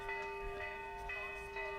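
A bell sounds at a polo match to mark thirty seconds left in the chukka, a steady ringing tone held across the short stretch with faint repeated strikes, moderately quiet over low field noise.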